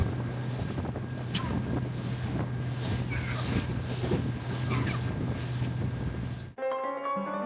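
A rented boat crosses an Italian lake. Its motor hums low and steady, mixed with heavy wind buffeting the microphone, until the rumble cuts out abruptly near the end and a brief tonal sound takes over.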